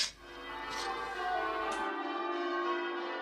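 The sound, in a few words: cathedral bells ringing on Christmas morning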